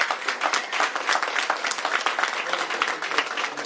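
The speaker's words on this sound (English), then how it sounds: "Give them a round of applause for all their hard work on this legislation and so many others." An audience at a governor's bill signing ceremony applauds, a dense, steady wash of many hands clapping close and loud throughout the short stretch.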